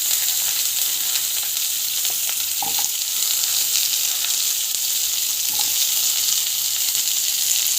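Green chilies and onions fry in hot oil in a pan, a steady close sizzle and crackle throughout with a couple of brief stirring scrapes, no talking.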